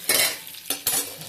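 Curry leaves hit hot oil in a pan, giving two quick bursts of crackling sizzle close by, separated by a brief lull, with no talking.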